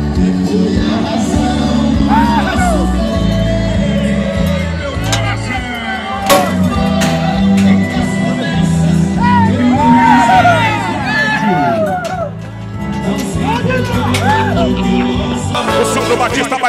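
Rodeo arena crowd at a bull-riding final in Estrela do Norte cheering and whooping for a top score, a dense loud roar of voices lasting throughout, with an announcer talking over it.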